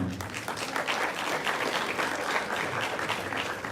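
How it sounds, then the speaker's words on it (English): A crowd at an innovation week event applauds the best student group with dense, steady clapping at moderate volume that lasts throughout. "We give them a clap before they come."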